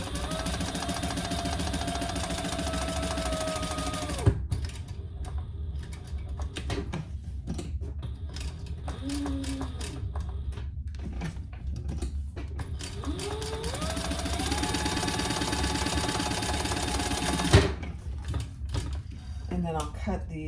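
Sewing machine stitching down each side of a connector strap for a Fiona Foldover crossbody bag, a steady close mechanical whir in two long runs with a quieter gap between, with light handling noises.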